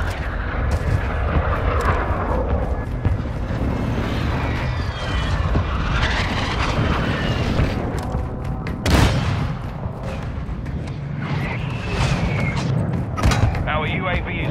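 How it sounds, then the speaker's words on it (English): Explosions from a precision airstrike in Call of Duty Warzone 2 burst through dense ongoing gunfire and aircraft roar, with one sharp heavy blast standing out midway. Voices are heard throughout. "Friendly precision airstrike inbound"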